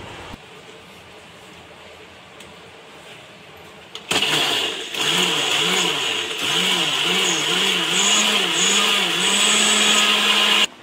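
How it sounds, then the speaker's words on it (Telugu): Mixer grinder whirring loudly as it blends ingredients into a smooth paste for a Telugu dried-fish curry; quiet at first, then the motor starts abruptly and runs steadily, its pitch pulsing, for several seconds alone. "దీంతో నార అన్నీ తీసేసి నున్నగా మిక్సీకి వేసుకోవాలి"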